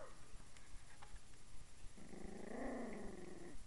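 A Chihuahua–Dachshund mix puppy gives a few faint, quiet sounds, then lets out a higher, drawn-out little bark-growl near the end, close by in a quiet room.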